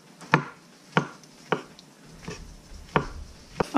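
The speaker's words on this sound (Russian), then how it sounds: "Вот такими маленькими кусочками порежу." A knife chops mushrooms into small pieces on a cutting board, six sharp, distinct knocks spaced unevenly about half a second apart, close and clear with no talk.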